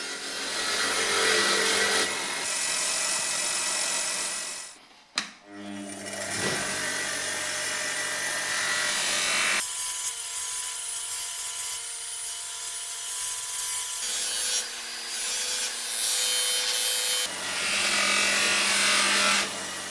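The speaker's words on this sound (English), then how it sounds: "I then finished them on the wire wheel to make sure all of the rust was gone" Rusty small parts from a BMW E30 325i held against a spinning wire wheel, a loud continuous abrasive whir that changes pitch and roughness as the parts are pressed and moved.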